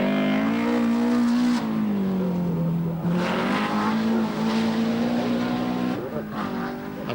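A two-wheel drive rally car, such as a Lotus Sunbeam, races through a stage at Lurgan Park in 1991, its engine roaring loudly and steadily with shifting revs, while a commentator talks over it.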